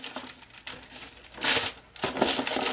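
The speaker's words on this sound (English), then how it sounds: "I'll edit out the crumpling," Wig packaging crinkles and crumples in irregular bursts, with a louder rustling surge midway and more crackling toward the end, close to the microphone.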